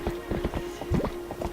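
Horse hooves clip-clop in a quick, steady gallop while riding horseback in Zelda: Twilight Princess, close and distinct against a constant background hum.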